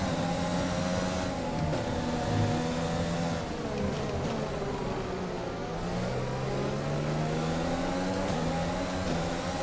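A Formula 1 race car engine in F1 2020 at Zandvoort, droning loud and steady at close range as its revs rise and fall through gear shifts, with no voices over it.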